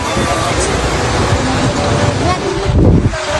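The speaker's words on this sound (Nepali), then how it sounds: "देख्न सक्नुहुन्छ हामीलाई रूपसे झरनामा" Rupse waterfall gives a loud, constant roar of rushing water, heard close and full throughout, with wind buffeting mixed in.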